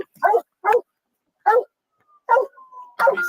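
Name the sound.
excited police dog barking and whimpering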